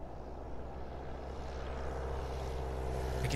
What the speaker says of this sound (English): Start the engines.